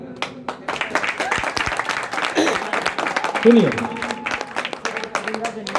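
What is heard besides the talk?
audience applause at poetry recital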